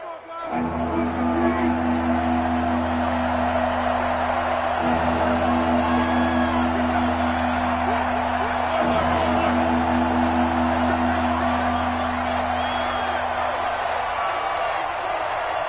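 Steady roar of a home stadium crowd in an American football video game, loud and continuous with a low droning hum and scattered whoops throughout.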